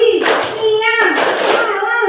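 Children in a classroom clap along to a chanted clapping game, two rounds of hand claps riding under their loud, rhythmic group chanting.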